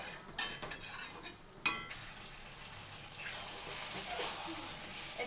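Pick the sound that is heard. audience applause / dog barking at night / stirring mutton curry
stirring mutton curry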